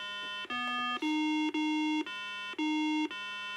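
A Milton Bradley Simon electronic game plays back a sequence of pure electronic tones, six or seven steady beeps of differing pitch, each about half a second, evenly spaced and clear with no talking.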